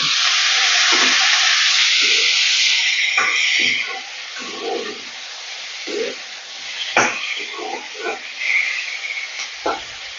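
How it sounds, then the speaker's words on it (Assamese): Chopped tomatoes go into a hot pan of fried onion, ginger, garlic and coriander stems, starting with a loud sizzling hiss that quickly dies down to soft frying crackle and occasional stirring clatter. "ধুনীয়াকৈ ভাজি লৈছোঁ আৰু তাতে আমি দি দিম এয়া কাটি থোৱা বিলাহীখিনি"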